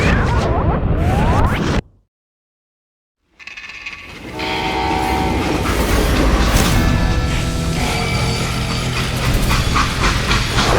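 A freight train in the video game Call of Juarez Gunslinger: after a brief dead silence, a loud, close rumble of rolling railcars builds with whooshing and clattering, continuous and dense, with no speech.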